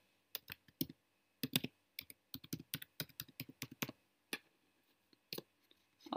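A password typed on a computer keyboard: quick bursts of crisp, close key clicks in uneven clusters, with short pauses between runs and a few isolated taps near the end.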